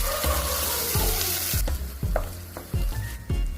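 Chopped tomatoes added to a hot pan of frying masala with mint and pepper powder, a loud sizzle at first, then repeated stirring scrapes and crackles as the sizzle settles.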